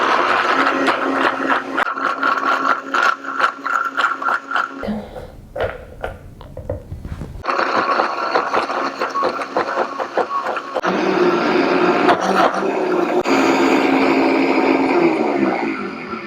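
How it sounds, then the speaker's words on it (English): A kitchen blender whirls carrot top hummus with a loud, continuous mechanical whir. It briefly changes pitch partway through, then keeps running steadily and close by. "I'm going to place the lid on top of our blender and we're going to give it a whirl."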